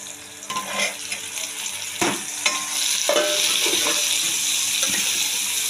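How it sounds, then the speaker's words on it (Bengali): A spice paste for hilsa and pumpkin curry fries and is stirred in a pan, scraping strokes over a loud sizzle that swells and holds steady toward the end, with no voices. "মশলাটা একটু ভাজা ভাজা হবে"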